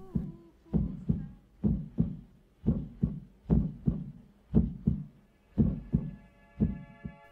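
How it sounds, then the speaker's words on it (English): A heartbeat thumps in a slow, steady rhythm, about ten deep paired beats, loud and close, with a soft hum and faint tonal drone rising near the end. "they may remember the sound of their heartbeat"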